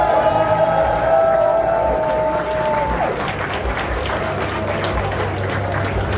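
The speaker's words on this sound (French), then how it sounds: "On veut une dernière bonne main d'applaudissement avant qu'on commence" A crowd at a contest event bursts into loud, sustained applause with cheering, dense clapping throughout while a held musical tone fades out early on.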